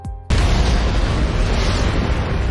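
A magical explosion in an anime erupts after a brief lead-in, a loud sustained boom with rumbling, roaring noise filling the rest of the moment, with no talking.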